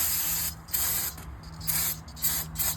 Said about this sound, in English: Soak them real good with brake clean.